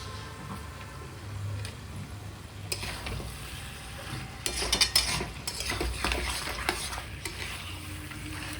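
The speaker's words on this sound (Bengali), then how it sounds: "মিট মশলাটা দেওয়ার পরে একটু আর একটুখানি নাড়াচাড়া করে নেব" Meat curry with potatoes being stirred after meat masala is added, crackling sizzle with clattering spoon-on-pot scrapes that grow louder midway, close by, no talking.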